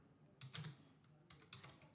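Soft keystrokes tap on a computer keyboard in short irregular bursts, close but quiet, with no talking.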